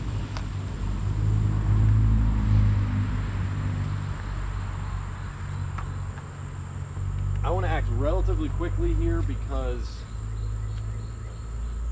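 Honey bees hum around a hive during a hive merge, a steady low buzzing drone running underneath a voice talking close by, with a faint high tone above.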